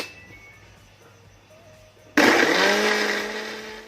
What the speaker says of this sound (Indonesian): setelah bahan halusnya udah dicampurkan semua, baru kita blender ya guys